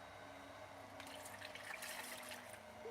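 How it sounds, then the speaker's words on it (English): Running water rinses a 3D-printed resin model piece of Spider Gwen, a steady splashing flow that brightens and thickens midway as the part passes under the stream, faint and without talk. "rinse him off real good"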